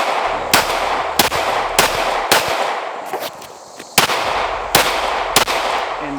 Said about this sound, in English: So let me take a couple shots with it.